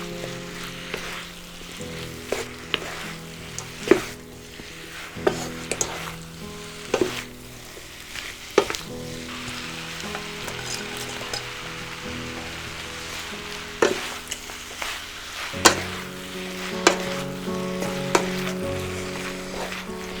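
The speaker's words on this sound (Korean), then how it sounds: "양념을 넣어서 빨리 볶아줘야 돼" Spicy squid and vegetables stir-fried with seasoning sizzle loudly and continuously in a hot pan, with repeated sharp clacks and scrapes of the utensil against the pan scattered throughout.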